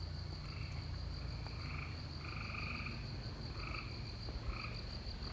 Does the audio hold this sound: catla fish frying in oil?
no